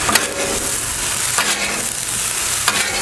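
Habanero fried rice with tomatoes being stirred in a hot pan, a loud continuous sizzle with three distinct scraping turns of the utensil, close up and with no voices.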